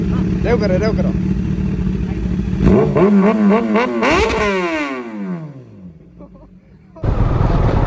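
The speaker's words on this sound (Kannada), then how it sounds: "ZX10 ಅದು ಎಕ್ಸಾಸ್ಟ್ ಸೌಂಡ್ ಕಲಿಸ್ತೀನಿ, ಕೇಳ್ಕೊಳ್ಳಿ" A high-revving ZX-10RR superbike engine screams up through several sharp throttle blips, then winds down in a long falling whine before roaring again, close and loud.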